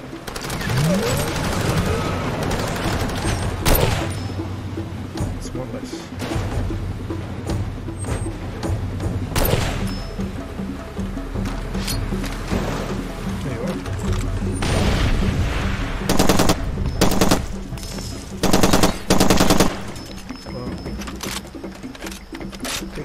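Rapid, dense gunfire from the Far Cry 2 video game crackles almost continuously, with sharp reports, loud booms and bursts of fusillade layered over a constant low rumble, near and forceful throughout.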